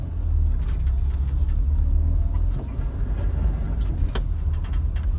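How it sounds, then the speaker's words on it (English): A classic Mini on the move, with a steady low engine rumble and road noise from inside the car, plus a few light rattles and knocks over the top. "We're actually driving my Mini."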